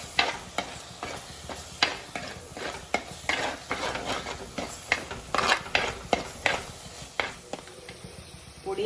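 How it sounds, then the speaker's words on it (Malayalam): Coriander powder is stirred into fish curry masala in a pan, a close soft sizzle broken by a rhythmic series of spoon scrapes and clicks about every half second, with no voices. "മല്ലിപ്പൊടി എന്നിവ ചേർത്ത് കൊടുക്കാം അത് മസാലയുമായിട്ട് നന്നായിട്ട് യോജിപ്പിച്ച് കൊടുക്കാം"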